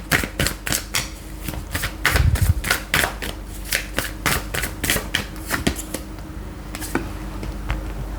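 A tarot card deck is shuffled in quick repeated riffles, a steady run of crisp flicks and slaps heard close and fairly loud, with no talking.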